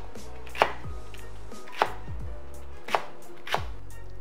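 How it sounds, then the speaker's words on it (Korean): Four sharp knife chops cut through a stalk of green onion (daepa) on a cutting board, spaced about a second apart, close and distinct, with a faint low hum between strokes and no talking. "대파는 어슬기로 썰면 됩니다."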